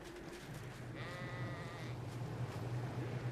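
Sheep bleat in the survival game Ark Lost Colony, one drawn-out bleat standing out faintly over a steady low ambient drone.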